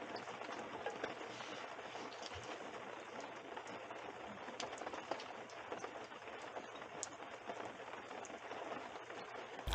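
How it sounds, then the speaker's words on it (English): Steady rain patters and hisses across a campsite in Algonquin Park on a gray morning, an even wash of drops with no voices, holding at a constant moderate level throughout. "with this gray and rainy morning"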